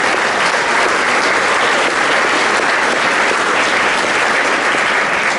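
Loud, dense applause from a banquet audience at a high school football awards dinner, steady and sustained throughout with no pause and no talking over it.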